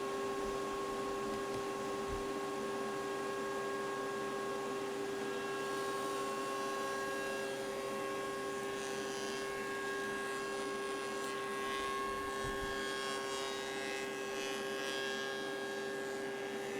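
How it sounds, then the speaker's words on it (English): A wood shaper spinning an adjustable groover cutter, milling grooves for T-track in a jig, gives a steady loud motor whine with sustained tonal hum throughout, the cutting sound shifting slightly as the stock feeds past. "Here I'm milling grooves at the shaper with an adjustable groover"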